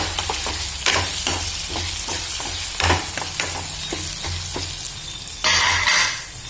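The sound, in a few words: frying green chillies and tomato in a pan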